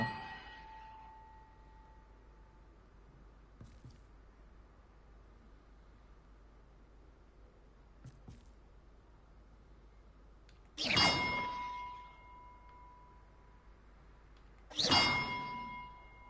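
Two loud, resonant bell strikes ring out with long decaying tails, well separated, in a musical map puzzle in Hogwarts Legacy, amid faint chimes and quiet background hum.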